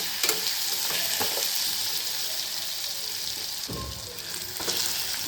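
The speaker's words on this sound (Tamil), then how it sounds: "நெல்லிக்காய் வதங்கிறதுக்கு கொஞ்சம் டைம் எடுக்கும் அதனால் அதை சிம்மில் வச்சு வதக்கிடுங்க" Gooseberries (amla) sauté in a pan over a low flame, giving a continuous hissing sizzle with a few brief stirring scrapes.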